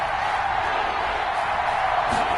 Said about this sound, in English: Here's where this crowd can really help make things difficult